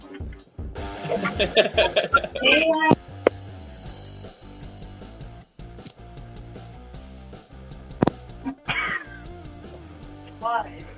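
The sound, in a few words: cat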